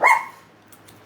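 A single sharp bark from Sophie the dog rings out close and loud, then dies away into quiet room tone.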